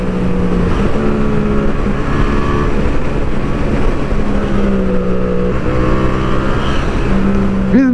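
Yamaha MT-07 motorcycle riding along a road, its engine droning steadily close by with repeated rises and falls in pitch as the rider revs, wind noise underneath throughout.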